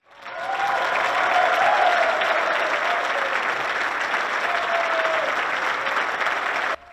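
A large parliamentary chamber, the European Parliament, breaks into loud, sustained applause welcoming Ukrainian President Volodymyr Zelensky. The dense clapping holds steady for several seconds, then cuts off abruptly.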